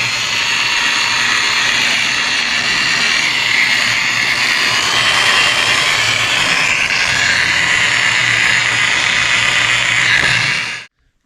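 A rotary polisher buffs the plastic fuel tank of a 2003 Yamaha YZ450F motorcycle, giving a loud, steady whirring drone that holds its pitch for about ten seconds before cutting off abruptly.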